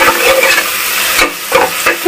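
A single chopped tomato sautés in a hot pan with steady, loud sizzling and brief bursts of stirring, heard alone without speech.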